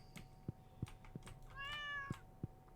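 A house cat meows once with a drawn-out, wavering call, surrounded by soft intermittent thumps and clicks in a quiet room.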